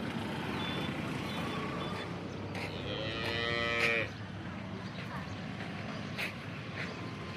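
A good pregnant milking cow gives one drawn-out moo of a few seconds, fairly faint against a low background rumble, while people talk nearby.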